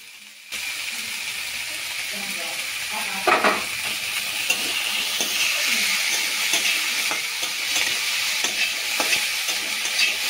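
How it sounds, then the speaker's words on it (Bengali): Soaked raw peanuts fry in a hot pan while being stirred, a steady close sizzle with scraping stir strokes and a sharp clatter early on, under occasional speech. "এরপর যে কাঁচা বাদামটা ভিজিয়ে রেখেছিলাম সেটা আবার এতে দিয়ে দেবো,"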